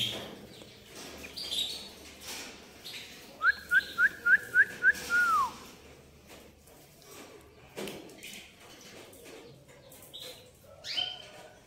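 A songbird, a cicada-like ngerek bird, sings a quick run of six or seven bright, whistled chirps, with faint scattered calls and background rustle around it.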